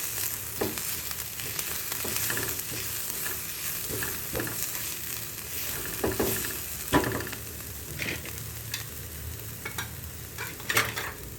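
Kashmiri red chili spice mix frying in a pan, with steady soft sizzling and occasional stirring scrapes throughout.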